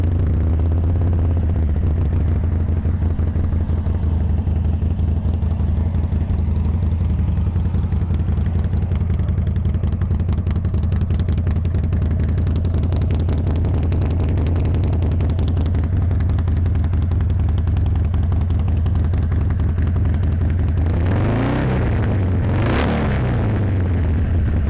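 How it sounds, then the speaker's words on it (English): A Harley-Davidson Sportster 1200 Custom XL1200C with 2,274 miles idles close by with a loud, steady, deep rumbling engine throb, then briefly revs up near the end before settling back, with no talking. "Bike runs great."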